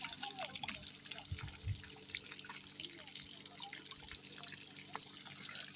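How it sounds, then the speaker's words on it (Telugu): Water running to waste in a farm garden, flowing off toward leafy greens with a steady, faint trickle and drip heard from close by, broken by soft background noise and no clear speech. "ఇక్కడైతే వాటర్ అంతా వేస్ట్ అవుతున్నాయి"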